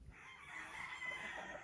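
Gagamboy, a fighting rooster and two-time winner, crows once in a long faint call from a distance.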